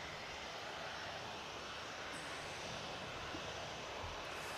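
A Tui Boeing 737 at Manchester Airport gives off a steady, faint wash of engine roar from a distance, with a thin high whine coming and going over it.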